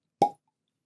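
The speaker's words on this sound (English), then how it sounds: "Cork pop." A cork pops from a bottle of Kentucky bourbon in a single short, hollow plop, close and clean against silence.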